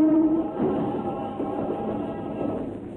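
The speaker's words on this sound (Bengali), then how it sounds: "ওই যে তোমার ট্রেন আসছে" A train approaches in a steady, loud low rumble with a brief tonal squeal at the start, the rolling noise holding constant as it nears.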